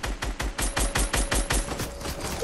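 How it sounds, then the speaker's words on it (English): Rapid gunfire in the Fortnite video game, a steady run of evenly spaced shots in quick succession, loud and sustained with no voices over it. "Somebody shooting."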